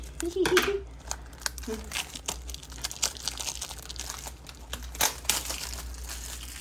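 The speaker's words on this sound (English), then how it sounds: "I am really struggling to get these seal off." Crinkly plastic seal wrap crackles and rustles in short, uneven bursts close by as it is peeled off, with a few sharper snaps as the wrap gives way.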